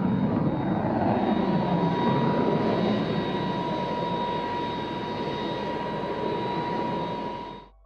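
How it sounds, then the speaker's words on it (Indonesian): A KC-10 tanker aircraft taking off, its jet engines giving a loud, steady, broadband roar that holds for several seconds and then cuts off abruptly, with no voices. "Sayap besar KC-10 memberikan daya angkat yang dibutuhkan untuk lepas landas, dan saat kecepatan meningkat, hidung pesawat mulai terangkat ke udara."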